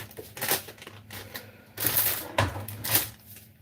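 A knife cuts food on a cutting board while preparing a high-protein salad, giving bursts of crisp, scratchy slicing and tapping up close, with short gaps between strokes and a steady low hum underneath.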